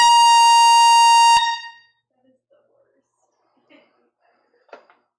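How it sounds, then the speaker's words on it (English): A celebratory air horn fires one long, loud, steady blast during a live record sale broadcast, then cuts off abruptly, leaving faint scattered room sounds and brief quiet talk afterward. "This is a celebratory air horn."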